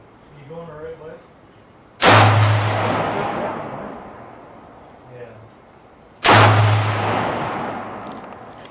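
Two loud, sharp gunshots from a converted Saiga 223 rifle, each cracking out suddenly and then trailing off in a long reverberant decay outdoors. The shots are spaced about four seconds apart, with faint voices murmuring before the first.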